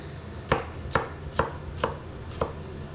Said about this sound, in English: I'm gonna cut these small so they cook quickly